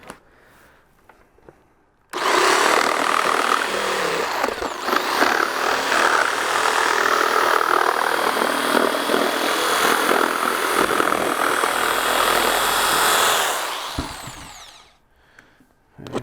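A power tool cuts the liner of a wheelchair back shell, a loud steady whine running for about eleven seconds with quieter handling noises before and after.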